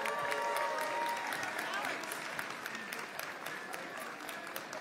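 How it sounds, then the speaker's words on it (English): Crowd applause at a Paul Vallas mayoral election-night event, sustained clapping from an audience under a murmur of voices, fairly faint and steady throughout. "Please, let's give her a round of applause."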